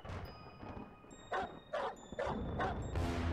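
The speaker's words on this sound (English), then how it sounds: "Now there's a dog here, so..." Dog barking in a horror video game set in a town called HappyHills, several sharp yapping barks in bursts over a low ambient background, fairly close and loud.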